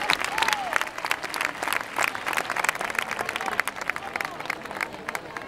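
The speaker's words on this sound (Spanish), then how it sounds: "Vamos a dar un fuerte aplauso de ánimo a esta pareja." Crowd cheering on a pair of competitors at a ring-catching event in Cariñena, Spain, with loud, dense applause of encouragement. Voices and crowd chatter mix in with the clapping.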